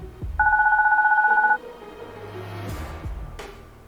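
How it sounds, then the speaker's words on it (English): A cartoon telephone in the adventure game Deponia rings loudly, a rapid warbling two-tone electronic burst lasting about a second, followed by faint game background sounds. "Oh, my baby phone's ringing."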